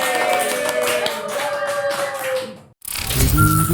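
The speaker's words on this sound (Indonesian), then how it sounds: "Tepuk tangan teman-teman." Audience clapping during a podcast-style talk session, a dense run of claps that stops abruptly, followed by a short burst of other sound.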